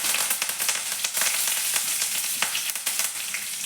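Crushed garlic and curry leaves crackle and hiss in hot oil after mustard seeds have popped. The sizzle is loud and continuous, with scattered sharp pops and no voices.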